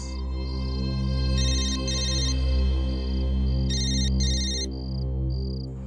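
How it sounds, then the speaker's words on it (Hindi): A mobile phone ringtone plays on and off in short repeating electronic chirps over a steady low musical drone, with no voices over it. "फोन बज रहा है तेरा।"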